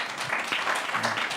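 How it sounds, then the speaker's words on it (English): An audience at an investor summit applauds a presenter taking the stage, a dense, continuous wash of clapping from a crowd in a hall throughout. "A round of applause as he gets to start his presentation."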